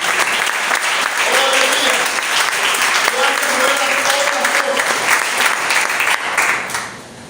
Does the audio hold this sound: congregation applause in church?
yes